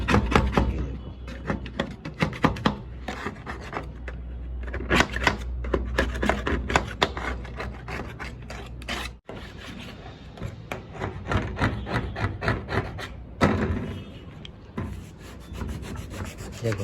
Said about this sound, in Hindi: जैसे उस साइड में आपने घिसा था ना इसको, ऐसे इधर भी घिसेंगे